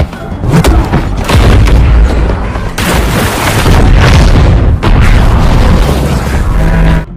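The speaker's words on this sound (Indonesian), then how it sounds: "teknologi senjata magnetik telah meledak sehingga kapal akan musnah" A magnetic weapon detonating aboard a ship in the action film Six Underground: a series of heavy, loud booming blasts with deep rumbling roar, several distinct bursts rolling into one another over seven seconds.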